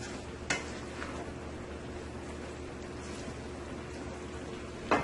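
Fried eggplant and potatoes tossed in a pan: a soft continuous sizzle with a sharp clatter of the pan near the start and another near the end, no talking.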